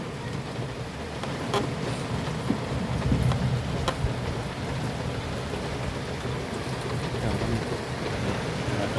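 Rain falls outdoors in a steady, dense wash of noise, with a few faint sharp ticks of drops on surfaces and no talking.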